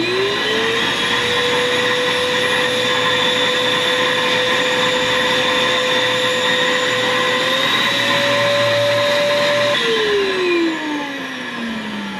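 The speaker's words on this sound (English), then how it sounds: "Turn on your trimmers. And then turn on your pet vacuum." A GULIGULI pet grooming vacuum runs with its trimmers switched on, giving a loud, steady whine and hum that holds throughout and shifts pitch slightly near the end, with no talking.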